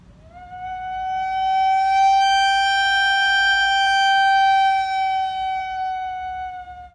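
A soprano saxophone holds one clear, bright sustained note for about seven seconds as breath pressure swells and eases, so the tone grows louder then fades slightly, heard close and alone.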